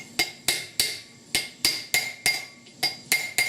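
A metal driving tool taps a grease seal into a 1978 Ford F150 rotor hub: ten sharp, ringing metallic strikes at a steady, even rhythm, close and clear with no talk.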